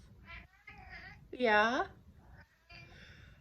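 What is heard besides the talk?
cat meowing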